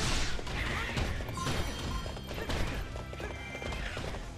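Horse neighing and kicking in Hyrule Warriors, a dense burst of game effects with whinnying, hoof strikes and crashing impacts layered over busy background music throughout.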